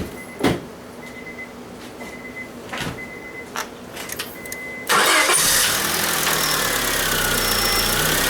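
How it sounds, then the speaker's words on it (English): A 2003 Honda Civic EX is started after a tune-up: a few quiet clicks and thumps, then the engine cranks and catches, settling into a steady close idle. "I'm going to start the car, let the car run for a while and see what happens."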